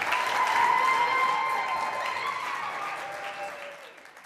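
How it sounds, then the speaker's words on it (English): A crowd at a youth program event applauds Pastor Albert Tate as he is introduced. The clapping is dense and loud and tapers off over about four seconds. "Please give a big round of applause to Pastor Albert Tate."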